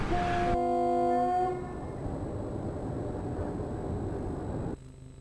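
A freight train hauling scrap iron sounds a long, loud horn blast at the start, then its wagons rumble and clatter steadily past before the noise abruptly drops at the end.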